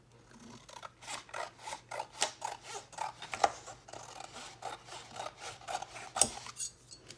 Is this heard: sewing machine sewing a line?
no